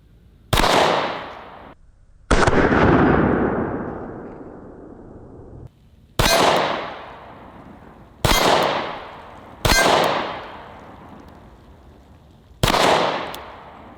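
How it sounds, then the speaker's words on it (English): Gen 5 Glock 19 pistol firing 9mm rounds fitted with a Trijicon RMR sight, six loud sharp shots at irregular spacing, each followed by a long ringing echo decaying outdoors. "We're gonna shoot this one out of my Gen 5 Glock 19."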